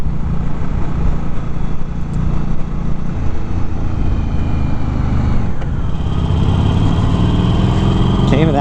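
A 2019 Harley-Davidson Forty-Eight Special cruiser rumbles steadily while being ridden, its fairly subdued exhaust a continuous low drone close to the microphone, shifting slightly in pitch toward the end.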